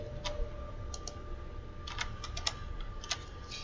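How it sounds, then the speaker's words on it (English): Keys struck on a computer keyboard, a short sequence of enter and backspace presses: a handful of sharp, close clicks scattered irregularly over a low steady hum, with no talking. "So you're going to hit enter, backspace, enter."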